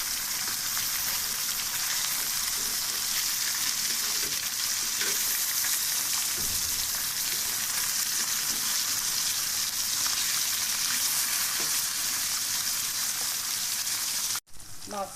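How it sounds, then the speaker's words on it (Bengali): Hot oil sizzles and crackles steadily as pumpkin-seed fritters fry, close and continuous, with a few soft stirring knocks before it cuts off abruptly. "ভাজাটা অনেকটা হয়ে গেছে এখন উল্টিয়ে দেবে ধীরে ধীরে করতে হবে যাতে তেল বেশি করে গরম করে নিয়েছি"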